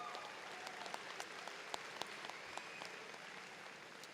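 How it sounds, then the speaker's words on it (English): Audience applause at a spring commencement ceremony honoring a graduate, steady and somewhat distant, with individual sharp claps standing out over the crowd's continuous patter. "Please, big round of applause for that."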